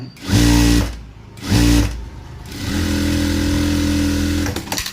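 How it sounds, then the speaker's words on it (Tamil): A sewing machine stitching a straight seam: two short motor bursts, then a longer steady run of rapid needle whirring, loud and close. "ஸ்ட்ரைட்டாக ஒரு தையல் அடிச்சுக்கோங்க."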